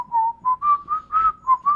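A person whistles a short melodic tune, a series of about seven clear, separate notes in an uneven rhythm, near and alone without talk.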